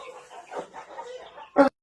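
A rooster clucks softly in a run of short, low calls nearby, then gives one sharper, louder squawk just before falling silent.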